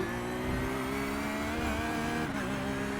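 A Porsche 911 GT3R race car in the iRacing simulator at Suzuka, carrying a full fuel tank. Its engine drones steadily and loudly at high revs, with slight pitch shifts as it exits a chicane.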